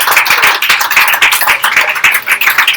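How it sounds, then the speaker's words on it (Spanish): Church congregation clapping loudly and fast during a Spanish-language sermon, a close, continuous burst of many hands applauding throughout. "Denle un aplauso a Dios."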